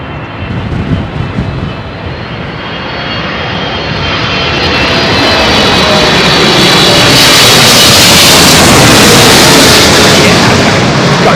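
A jet airliner landing in a heavy southwesterly crosswind on runway 27L at London Heathrow, a broad engine roar that swells from moderate to loud and close, then holds as a sustained rushing thunder.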